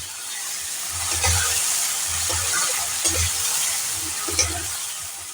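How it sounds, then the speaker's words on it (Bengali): Sesame and poppy seed paste frying in a pan over high flame, a steady hissing sizzle broken by repeated low scraping stirs, no voices. "এটাকে এখন হাই ফ্লেম করে একটু কষিয়ে নেব"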